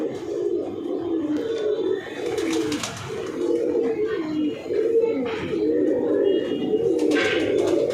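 A male and female pair of Kalanka pigeons coo steadily and continuously at close range, a low rolling murmur with a few faint chirps and rustles over it.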